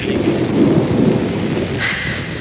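Thunder rumbles loudly through a steady downpour of rain in a 1984 Pakistani Urdu film, a continuous storm roar with no voices.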